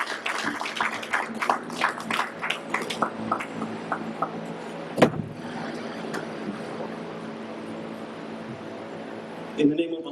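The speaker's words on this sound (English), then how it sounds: "And please help me with bringing up Brother Murder Muhammad with a warm round of applause." Warm audience applause at a mosque gathering in Los Angeles, a steady wash of clapping through the first half that fades to a quieter room with a few louder thumps.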